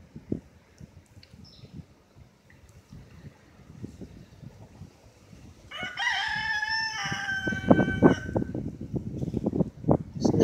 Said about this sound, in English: It's another rooster.